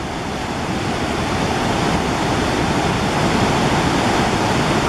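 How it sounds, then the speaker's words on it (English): Rushing water of the Menominee River on a crisp fall morning, a steady, loud, full-band roar of moving current that holds constant throughout with no voices. "water is moving today."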